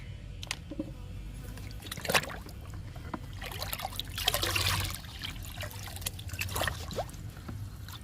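Liquid fertilizer made with peanut cake being strained for garden plants gives uneven sloshing and trickling, with a couple of louder splashy surges amid softer dribbling.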